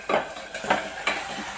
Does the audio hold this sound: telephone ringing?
no